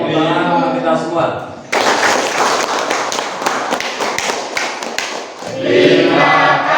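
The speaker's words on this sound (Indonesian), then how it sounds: "Oke, tepuk tangan untuk kita semua." Classroom applause from a group at a teacher-training practice lesson, a dense burst of clapping lasting several seconds, with spoken voices before and after.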